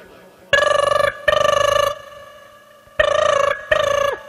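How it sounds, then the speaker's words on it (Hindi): A telephone rings while a call is dialled from a computer: four loud, steady electronic ring bursts in two pairs, each about half a second long, with short gaps between them. "कंप्यूटर से पप्पू को फोन मिलाया जाए"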